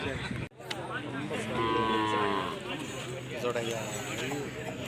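Cattle lowing at a busy outdoor cow market, several deep moos rising over a crowded, noisy background with people talking nearby.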